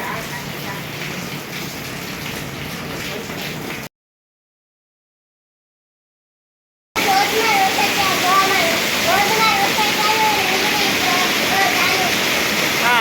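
Heavy night-time downpour during the Navratri season, a steady dense roar of rain with a gap of silence partway through, loud and continuous throughout.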